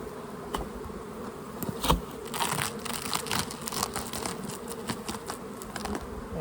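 Honeybees buzz steadily in an open hive holding about eight or nine frames, a dense close swarm hum with a few louder passes near the ear and some light crinkling handling noise, no speech.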